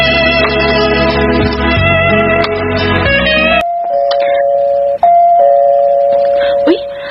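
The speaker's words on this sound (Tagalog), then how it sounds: "Uy, may nag-doorbell man." A doorbell chimes in a home, a sustained tonal ring that cuts through music and voices, followed by a steady held tone with a faint second ding; people speak around it.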